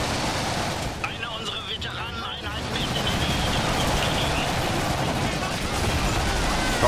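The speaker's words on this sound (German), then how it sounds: "Kanone, schieß doch." Cannon and battle fire rumble continuously in the Iron Harvest strategy game, dense explosive booms and gunfire layered thick and loud, with a voice speaking over part of it.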